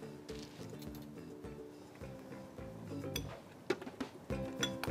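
Metal spoon clinking against a dish while mangoes are added for a tandoori chicken masala, several light scattered clinks and scrapes close by over a faint musical background.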